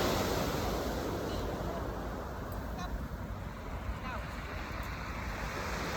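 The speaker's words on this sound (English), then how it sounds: "And just rest in the sound of the waves." Ocean waves wash steadily onto a shore in a broad, continuous surf hiss, with a faint honking sound briefly audible in the distance.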